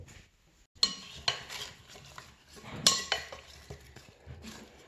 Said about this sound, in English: And we're just going to stir them.